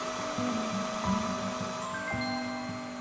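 A household vacuum cleaner running again after stopping, its steady droning motor hum continuous and close, with a slight change in pitch partway through and no talk.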